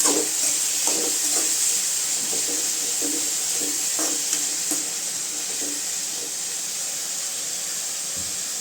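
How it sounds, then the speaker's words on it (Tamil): Snake gourd stir-fry with turmeric and salt being stirred in a pan, a steady sizzle and hiss with repeated soft scraping strokes of the spoon, close and loud, no voices. "நல்லா கிண்டி விட்டுக்கலாங்க"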